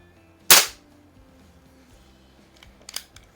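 Rebuilt eighty-year-old Benjamin 137 air pistol firing a single sharp crack, followed by faint mechanical clicks of handling, in a quiet setting.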